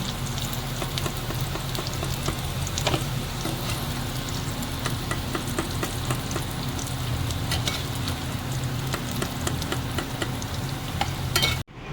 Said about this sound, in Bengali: এইভাবে আলুটাকে নাড়িয়ে চাড়িয়ে লাল লাল করে ভেজে নেব।